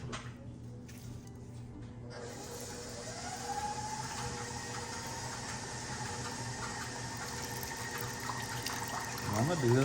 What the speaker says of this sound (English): Just pour water everywhere.